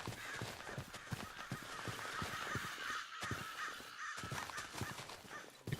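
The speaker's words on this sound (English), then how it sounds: "The crows are not happy about what I'm doing" Crows caw in the game RLCraft: a dense, steady run of harsh calls and clattering bursts with a brief lull partway through.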